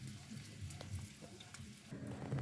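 Dried squid (daing na pusit) frying in hot oil, giving a steady crackling sizzle with scattered pops that swells slightly toward the end, heard up close with no talking.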